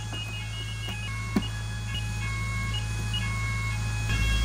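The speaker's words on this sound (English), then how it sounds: "Fire alarm's going off." A steady electronic alarm tone rings continuously over a low hum, with a brief sharp click partway through.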